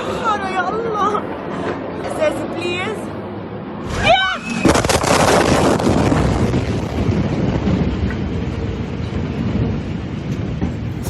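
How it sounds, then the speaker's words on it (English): The ammonium nitrate explosions at the port of Beirut in 2020: a deep boom hits partway through, then a rolling roar with wind buffeting the microphone, after people's voices are heard before the blast. "So that's the original explosion and the second one."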